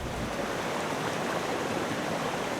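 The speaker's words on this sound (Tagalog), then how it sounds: "That water stream goes all the way to the community down in Nara" A forest watershed stream flows with a soft, steady, continuous rushing wash, faint and even throughout with no voices.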